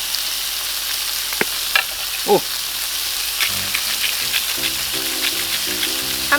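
Wagyu steak sizzles steadily in a hot pan for a medium-rare cook, a continuous close frying hiss with a few scrapes and faint clinks, and no talking.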